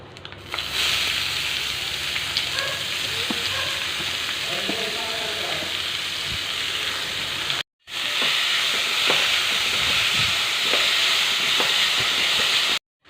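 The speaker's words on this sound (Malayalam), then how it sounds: "ഇപ്പം നമ്മുടെ ക്യാബേജ് നല്ലതുപോലെ ഇളക്കിയിട്ടുണ്ട്" Cabbage tossed with turmeric and salt in a hot frying pan, a continuous loud sizzle with scattered stirring scrapes, broken by a brief gap midway.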